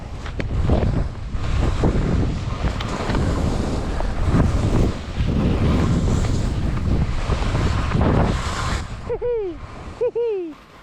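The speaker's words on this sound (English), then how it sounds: "Now it's windy here." Strong gusting wind on a mountain slope beneath the north face of Mount Collie buffets the microphone in a loud, rumbling roar that continues nearly throughout, easing briefly near the end.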